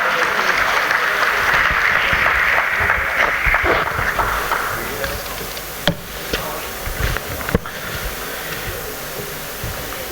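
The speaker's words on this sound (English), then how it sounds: "With a huge round of applause, everyone, a bigger one." Conference audience at an IPCA gathering claps in a broad, dense wave that swells early, then thins into a few scattered claps and sharp knocks toward the end.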